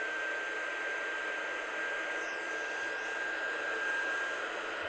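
A hair dryer runs steadily close by, drying a freshly stamped watercolour card with a continuous, even rushing whir and a faint high whine.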